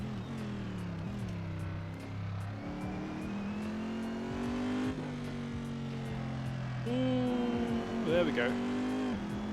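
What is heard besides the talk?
race car engine driving a lap at Suzuka in Assetto Corsa video game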